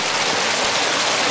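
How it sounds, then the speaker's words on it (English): A mountain creek at a camp rushes steadily and loudly nearby, with a constant broadband wash of flowing water and no voices. "I guess you can probably hear the creek."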